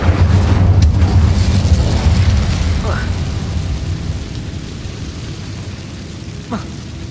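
Incendio fire spell cast in Hogwarts Legacy, a loud rushing burst of flame with a low rumbling roar that slowly fades over several seconds, with a brief crackle later.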